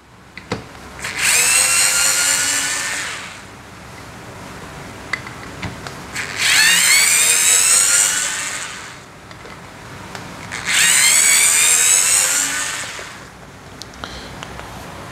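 Three long bursts of an Ingco cordless screwdriver's whirring motor driving screws into wood, close and loud, each lasting about two to three seconds with short quiet gaps between.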